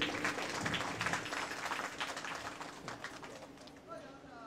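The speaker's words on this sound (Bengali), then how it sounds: "জোর করে করতালি।" Crowd applause at a Christmas festival in Dumdum Cantonment, a dense, steady patter of many hands clapping at once, mixed with voices and general hubbub throughout.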